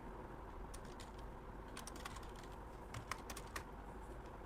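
Keys clatter faintly on a computer keyboard as a number is typed in, with a short run of light, irregular taps over a quiet room hum.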